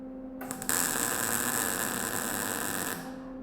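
MIG welder making a single spot weld on steel, a steady crackling buzz that starts abruptly, holds for about two and a half seconds, then cuts off.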